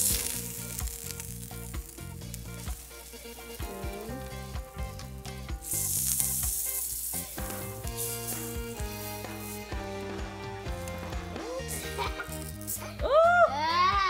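Pancakes fry in a hot pan with a steady soft sizzle. Music-like tones and occasional voices, including a child's, sit over the frying throughout.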